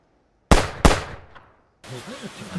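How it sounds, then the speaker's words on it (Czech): Gunfire in a film trailer parody: two loud, sharp shots in quick succession, ringing briefly into quiet before a voice starts talking. "Střílí, ty vole."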